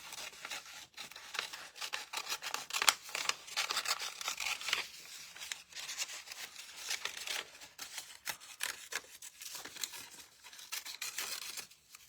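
Paper being cut out for a mixed-media pumpkin craft, with repeated close snips and crinkly rustling, soft and irregular with no talking.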